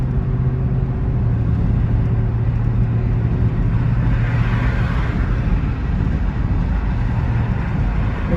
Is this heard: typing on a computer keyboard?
no